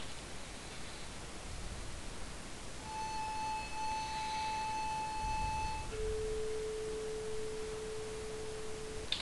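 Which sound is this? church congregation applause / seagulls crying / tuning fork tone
tuning fork tone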